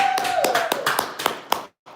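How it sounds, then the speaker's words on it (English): Audience clapping for the women at an evening community event, a handful of distinct claps in an uneven rhythm with a voice running underneath, stopping abruptly before a brief silence. "Let's clap for the women."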